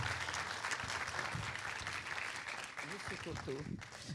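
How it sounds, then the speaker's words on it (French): Applause from the audience at a short-film festival closing ceremony, fairly dense clapping heard at a distance and somewhat faint, with voices talking beneath it. "Sous vos applaudissements"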